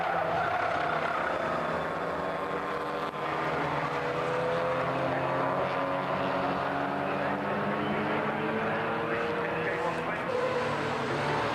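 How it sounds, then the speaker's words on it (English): A 1960s sports or GT race car, the race leader on its 14th lap at Silverstone, roars past with a loud, steady engine note that rises and falls as it passes, against a continuous track-side din. "Here's the leader coming through on his 14th lap."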